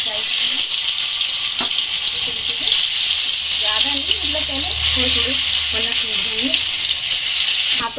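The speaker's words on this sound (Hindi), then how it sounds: "अब हम इसमें पनीर फ्राई करेंगे।" Paneer fries in hot oil in a kadhai, giving a loud, continuous sizzle and crackle throughout, with faint background voices and a low rumble mid-way.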